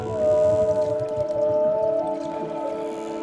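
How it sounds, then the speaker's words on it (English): Whales call underwater in long, steady tonal moans with layered harmonics, sustained and fairly clear over a low rumbling sea background. "whales, dolphins, and other marine animals use sound to navigate while migrating"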